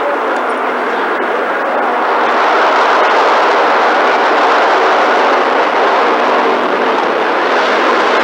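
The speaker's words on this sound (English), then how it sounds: "Coming in for a high-speed pass." A low, fast pass by a fixed-wing aircraft at about 20 feet above the ground and around 120 miles an hour, a loud steady roaring whoosh that swells slightly and then holds for several seconds.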